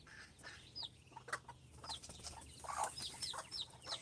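A backyard hen with her three chicks, soft clucks mixed with high, brief chick peeps scattered across a few seconds, faint and close in a quiet outdoor setting.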